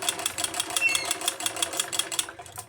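A sewing machine stitching the curved seam of a blouse, its needle clattering in a fast, steady rhythm close by, the stitching running continuously before easing off at the end.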